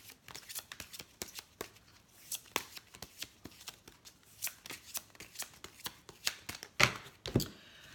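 Tarot cards shuffled and handled on a table, a steady run of soft riffling flicks and slaps with a few sharper card snaps near the end, close and alone without talk.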